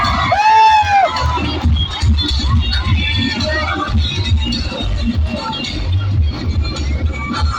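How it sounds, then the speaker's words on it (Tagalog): Cheering and shouting rise from a crowd at an election rally in the Philippines, loud and close, with applause blending into the noisy hubbub and voices calling out throughout. "marinig naman ang isang malakas na palakpakan na may kasamang hiyawan"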